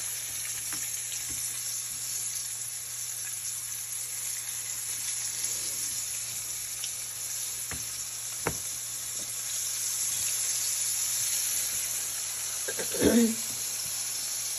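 Floured cubed steak browning in a hot pan, a steady close sizzle running throughout with a few faint clinks and a brief scrape near the end, no talking.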